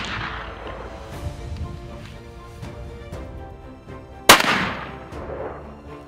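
A single H&H rifle shot cracks out loudly at a target near the end, followed by a decaying outdoor echo, with faint background noise beforehand.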